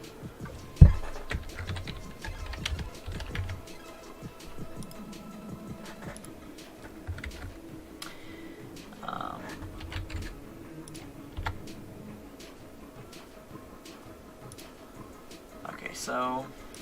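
A clicky computer mouse taps out scattered, faint clicks at an irregular pace beneath a person talking.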